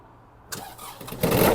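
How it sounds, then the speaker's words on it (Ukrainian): The small diesel engine of a Kubota GT-3 mini tractor cranks and catches after the glow plug is preheated, rising from quiet into a loud, rough rattling idle that builds over the final moments. "Заводиться трактор легко"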